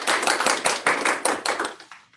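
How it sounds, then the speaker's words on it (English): Brief applause at a school board meeting, a small group clapping in distinct, uneven bursts that taper off and fade out toward the end. "So let's give them a round of applause"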